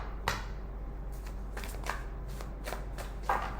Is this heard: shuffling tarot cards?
yes